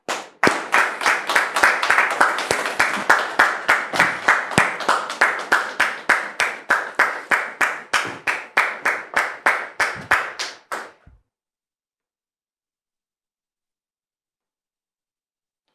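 A small talk-show audience claps to welcome an arriving guest, sharp distinct hand claps in a quick steady rhythm, fairly close, ending abruptly into silence.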